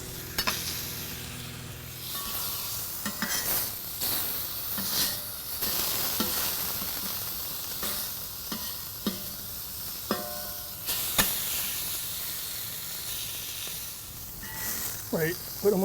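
Bacon sizzling under a weight on a SnS Grills plancha griddle, a soft continuous crackle punctuated by sharp clanks and scrapes of tools, with a voice talking over parts of it.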